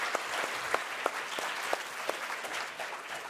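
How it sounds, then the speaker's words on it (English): Faint, distant applause from a small corporate suppliers' forum audience, with a few sharper individual claps standing out in a loose rhythm over a soft room background. "Can we please give a hand of applause to our executives?"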